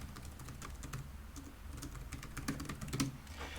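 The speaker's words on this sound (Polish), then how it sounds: "W naturalny sposób wpisujemy tutaj jakąś wiadomość." A message being typed on a computer keyboard, a quick run of soft, close key clicks with an irregular rhythm over a low background hum.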